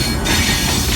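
Millat Express train hauled by a Cheetah locomotive, a loud continuous rumble of rolling wheels and carriage noise throughout, heard from on board with no talk.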